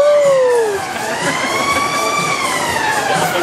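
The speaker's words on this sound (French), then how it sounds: "La sirène." A wailing siren sounds loud and close at a funfair ride at the Saint-Maurice fair, its tone sweeping up and holding long over crowd and ride noise.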